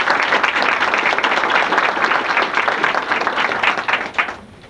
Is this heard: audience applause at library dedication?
yes